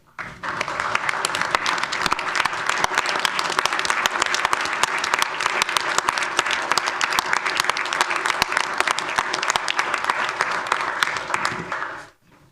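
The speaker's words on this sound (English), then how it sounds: "If we could stand and give Chief Buckley an applause" A standing audience at a village board meeting gives Chief Buckley long, sustained applause, a loud, even roar of many hands that cuts off sharply at the end.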